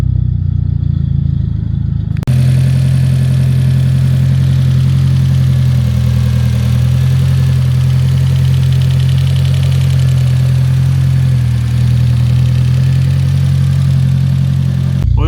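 A restored Fiat Punto GT Turbo engine idles steadily and loudly up close, with a deep, even rumble and light mechanical clatter. It runs alone without any talk.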